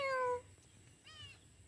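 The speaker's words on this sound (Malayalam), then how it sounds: "ഒരു പൂച്ചേൻ്റെ സൗണ്ട് കേട്ടപ്പോൾ വെറുതെ അതിനൊന്ന് നോക്കാൻ പോയതാ" A cat gives a short, clear meow at the start, fairly close, then only faint background noise follows.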